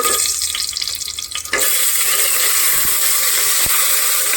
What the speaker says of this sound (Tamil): இது கொஞ்சம் பொரியட்டும்.